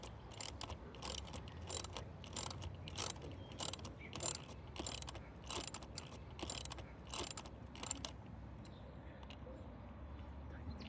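A hand ratchet clicks in quick, uneven bursts while tightening an awning mount on a 2019 Hyundai Tucson, the close, crisp clatter of the pawl stopping and starting over a faint background.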